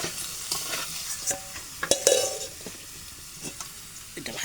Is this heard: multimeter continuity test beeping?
no